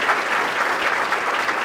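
Brief burst of audience applause at a city State of the City address, many hands clapping in a full, steady roar for a moment, with no talk.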